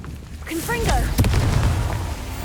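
Confringo explosive spell going off in Hogwarts Legacy, a rising whoosh and whistling sweep followed by a sharp crack and a deep, rolling blast that rumbles on for over a second.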